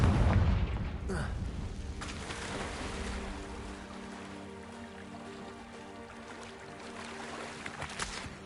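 The Confringo fire spell from Hogwarts Legacy bursts with a heavy explosive boom that opens loud and then settles into a long, rumbling, roaring tail fading over several seconds.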